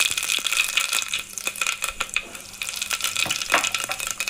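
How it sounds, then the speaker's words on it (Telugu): Whole spices, a bay leaf and red chili frying in very hot oil for a mutton curry give a steady, close crackling sizzle with scattered pops and light stirring rattles throughout, with no talking. "ఆల్రెడీ ఆయిల్ చాలా హీట్లో ఉంది కాబట్టి నేను వెంటనే అన్నీ వేసుకున్నాను"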